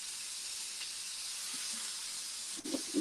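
Meat hisses steadily in a hot, very thin pan, a faint broadband sizzle running throughout, with a few small clatters near the end.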